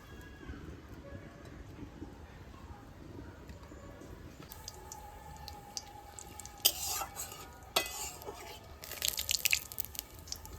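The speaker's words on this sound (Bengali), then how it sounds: "কড়াই গরম হয়ে গেছে তেল দিয়ে দেবো" Oil hits a hot kadai (wok) for Bengali cooking: quiet background at first, then sharp crackling sizzle bursts that grow busier toward the end, with light stirring clatter.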